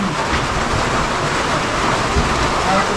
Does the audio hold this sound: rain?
yes